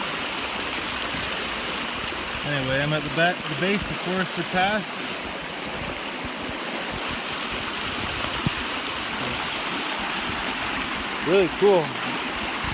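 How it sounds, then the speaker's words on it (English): Snowmelt water runs beneath snow and rocks at the base of Forester Pass in the high mountains, a steady broadband rushing that continues throughout while someone talks intermittently over it. "All the snow's melting and water's flowing underneath it."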